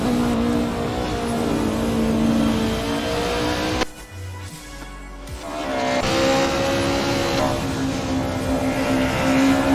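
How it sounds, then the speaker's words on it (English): A 90s touring car engine in a racing sim at Zandvoort drones steadily and loud, then briefly drops away as the driver lifts off before the throttle picks back up and the engine note climbs again. "There you can hear the engine just lifting off a little bit as Dylan Morant, not too confident with hold"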